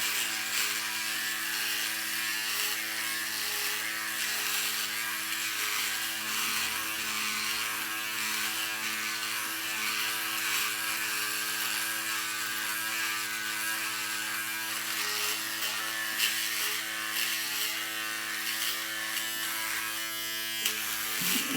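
A cheap electric shaver bought from Amazon buzzes steadily and loudly against a face throughout, a continuous close-up whirring hum with faint scratchy texture as it passes over stubble.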